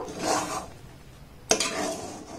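Rice flour and water being stirred and kneaded by hand for modak dough, a close scraping, rubbing sound in two long bursts separated by a quieter pause, the second starting with a sharp knock.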